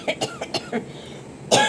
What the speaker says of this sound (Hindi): ये खांसी, इनको खांसी हो रही है, इनको कफ है।